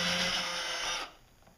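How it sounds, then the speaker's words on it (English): A power drill boring a pilot hole into a wooden dowel rod, a close, steady whirring buzz for about a second before the motor winds down and stops. "So I'm going to take a drill hole there"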